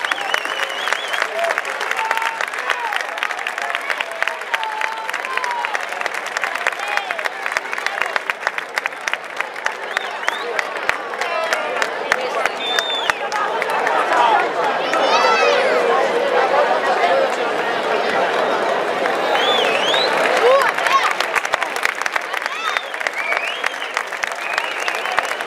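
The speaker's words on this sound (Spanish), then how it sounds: "Un aplauso." A crowd applauds at length in a town bullring plaza during a local encierro festival, with dense rhythmic clapping, murmured chatter and scattered voices mixed in, staying loud and continuous.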